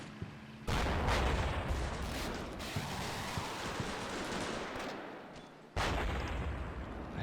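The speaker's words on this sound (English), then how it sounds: "There is an M240 shooting somebody." An M240 machine gun fires in the war video game Combat Mission Shock Force 2, heard as continuous loud, rattling gunfire with booming reverberation, broken by a brief lull before another burst.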